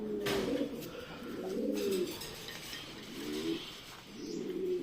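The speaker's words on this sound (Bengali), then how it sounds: "সবাই দোয়া করবেন আমার কবুতরগুলোর জন্য" Several pigeons coo in repeated low, throaty phrases, one after another, close and steady, with faint clinks and rustling around them.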